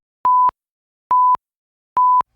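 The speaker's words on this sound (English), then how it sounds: "That's the sound of your body's check engine light flashing." Three evenly spaced electronic warning beeps in the style of a check engine light alert, each a clean steady tone about a quarter second long, loud and alone with silence between.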